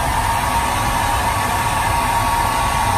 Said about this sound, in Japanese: そしたらドライヤーで乾かします。